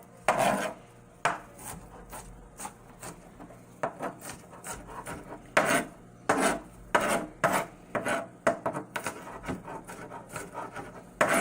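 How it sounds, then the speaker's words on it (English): A knife chops garlic on a cutting board in quick bursts of sharp taps with short pauses, close and fairly loud, while cooking for a T-bone steak recipe, with no talking. "So let's go ahead and chop the garlic."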